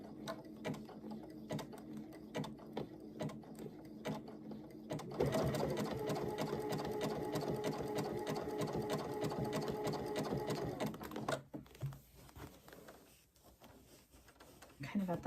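A sewing machine stitches an appliqué spring flower wall hanging, running steadily for several seconds in a dense, loud mechanical whir, then stopping and leaving quieter handling sounds while a person talks.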